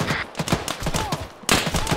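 Bursts of heavy gunfire from a rooftop position in Arma 3 in a South African setting, rapid reports in uneven volleys with a louder burst at the end, fairly close and unaccompanied by talk.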